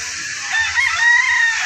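A rooster crows loudly and close by on a rambutan farm in Orion, Bataan, one drawn-out call held for over a second with no talking.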